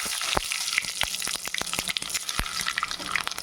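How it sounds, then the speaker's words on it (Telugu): Urad dal and mustard seeds sizzle in hot oil for a Rayalaseema-style dried fish dish, a steady close crackle with sharp scattered pops and spatters throughout, no talking. "ఇప్పుడు ఆయిల్ పెట్టి కాగింది ఆయిల్. ఇప్పుడు ఈ ఉద్దిపప్పు ఆవాలు వేసుకుంటాం."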